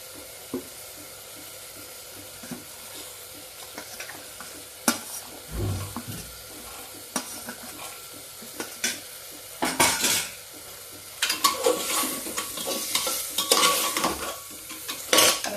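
Green peas tossed into a pan with hing, stirred with a metal spoon that scrapes and clinks against the pan, with soft sizzling of frying and sporadic louder clatter of cookware, no talking.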